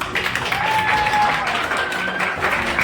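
A crowd at a school toppers' felicitation ceremony claps continuously, a loud, dense, sustained burst of applause with faint whistles riding over it.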